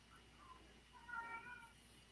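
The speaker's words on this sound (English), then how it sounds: "You hear my cat in the background." A house cat meows faintly in the background, one soft drawn-out call over a low steady hum.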